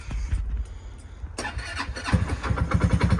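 A small engine on a 2007 Surfango Hawaii GT jet-drive gas kayak cranks briefly then fires up and settles into a rough, rapid idle, close and fairly loud.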